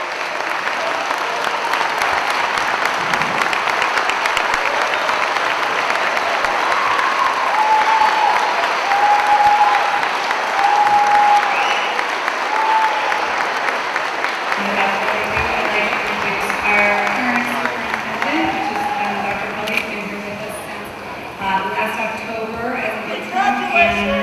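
A standing ovation at a school building dedication and ribbon-cutting ceremony for the Jefferson-Houston School, with loud, sustained applause from a large crowd that thins into scattered clapping near the end.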